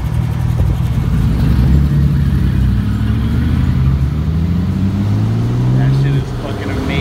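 A Chevy Monza car engine revs loud and close, its low drone rising and falling in pitch over several seconds under a steady rumble, with voices talking over it.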